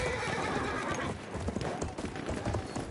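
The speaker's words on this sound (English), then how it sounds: "The horse completely ran me over." A galloping horse in the Battlefield 1 video game, with steady clip-clop hoofbeats and a whinny. It sounds close and loud, with busy battle ambience underneath.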